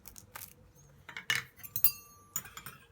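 A spoon clinks against a glass of milk steeped with saffron, a few separate bright taps and scrapes, faint and close, with quiet gaps between them.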